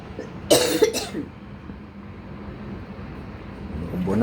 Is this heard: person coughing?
yes